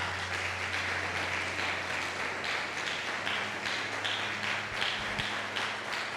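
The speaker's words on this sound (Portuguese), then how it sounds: "Vamos aplaudir ao Senhor por isso." A church congregation at IEAB Limeira applauds in praise to the Lord, a moderate, continuous patter of many hands with a low steady hum underneath and no voices on top.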